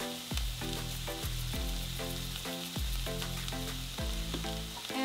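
Tomatoes, poblano and serrano chiles sizzle steadily in a hot pan, a continuous crackling fry broken by repeated clanking thuds of stirring utensils against the pan, with no voices.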